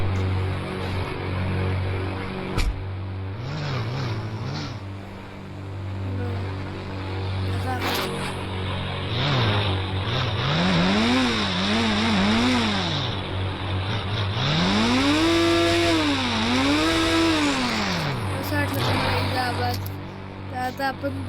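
A Bugatti engine in a video game revs repeatedly, the pitch rising and falling in smooth waves that grow longer and louder toward the end, over a steady low hum.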